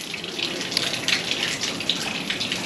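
Water from a street fountain in the village of Bienno gushes and splashes steadily, a continuous bright rushing spray without pauses, close by.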